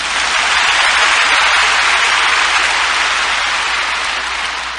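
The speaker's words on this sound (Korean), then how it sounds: "아, 한번 힘차게 박수합시다." A church congregation breaks into loud, sustained applause, a dense and steady wash of many hands clapping together that holds for several seconds, with no voices over it.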